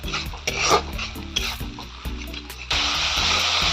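Potatoes sizzle and fry in a pan for Assamese sour fish curry, with clattering stirring strokes, then a steady louder hiss of frying.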